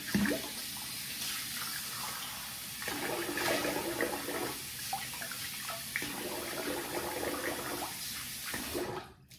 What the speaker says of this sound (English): let's rinse the face.